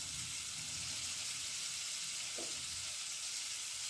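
A cube of butter sizzles in a hot kadhai, giving a steady bright frying hiss that runs continuously, with a brief soft clink of a utensil midway and no talking.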